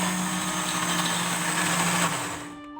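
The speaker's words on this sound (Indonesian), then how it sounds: "Lalu blender hingga halus." A blender purées purple sweet potato with coconut milk for putri ayu cake batter, a loud, steady whirring motor that runs continuously and then winds down and stops near the end.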